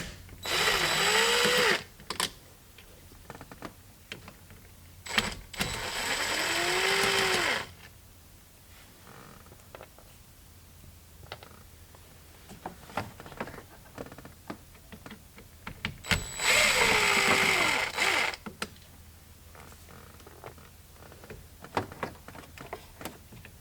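A power driver undoes the four screws holding a steering wheel clock spring, in three separate whirring bursts of a few seconds each, with small clicks and handling noises between them.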